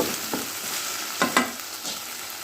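Sliced okra fries in a pan with crushed green chilli and cumin, a close, steady sizzle broken by a few quick scraping stirs of a spoon.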